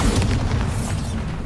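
A loud, deep explosion from the Bombarda blasting spell in Hogwarts Legacy, a heavy booming rumble that fills the moment with crackling burst debris on top.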